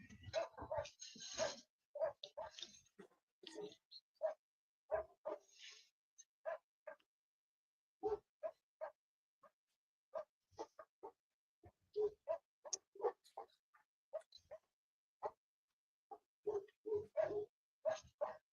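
Several dogs bark in short, scattered bursts, some near and some farther off, against an otherwise quiet outdoor background, with occasional faint bird calls mixed in.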